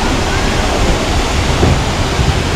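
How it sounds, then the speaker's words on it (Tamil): Cheeyappara waterfall in Munnar, running strong after days of rain, gives a loud, constant roar of rushing water close by. "ரெயின்ஃபால் இப்போ பாஸ்ட் ஃபியூ டேஸ் இருந்தனால அருவியில் தண்ணி நல்லாவே வருது."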